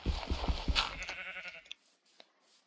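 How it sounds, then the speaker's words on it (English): A sheep bleats in the video game Minecraft, a short wavering cry over choppy game noise, followed by a few faint clicks and quieter blips. "Wait, I heard a sheep!"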